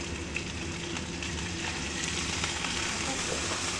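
Sardines fry in a pan for a vegetable stir-fry, giving a dense, even sizzle with faint pops that holds steady and moderately quiet throughout.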